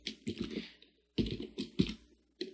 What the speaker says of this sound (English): I'm going to type a print instruction